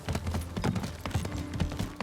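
Galloping horse hooves in the samurai adventure game Ghost of Tsushima, Iki Island expansion: a quick, steady run of loud, close clip-clop beats with no talk.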